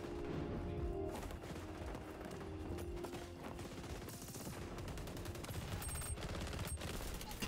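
Rapid gunfire crackles through an XDefiant open beta match, with dense bursts of shots and impacts running steadily from start to finish at close range, with no speech.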